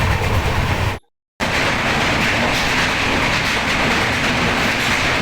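Loud, steady roar of the Sindhudurg Express rolling through a tunnel under the Sahyadri mountains, with a rumbling rattle of carriages; a brief total dropout near the start, then continuous noise.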